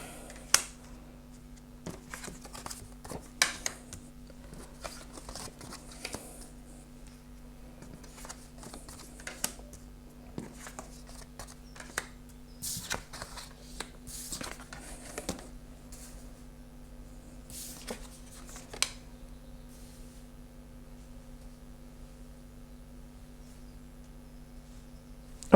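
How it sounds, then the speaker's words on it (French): Dixit game cards are turned over one by one on a table, giving soft, scattered clicks and slides of card stock against a quiet hum, with no voices. "Alors, je retourne les cartes."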